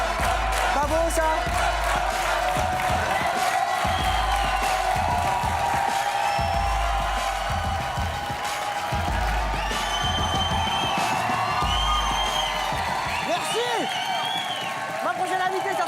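A television talk-show audience applauds and cheers loudly and steadily, with scattered whoops rising over sustained clapping before it fades at the end.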